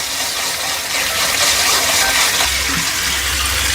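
Water splashes and gushes steadily as shrimp shells are rinsed by hand in a vessel at home, a loud, continuous wash of running and sloshing water with no talk over it.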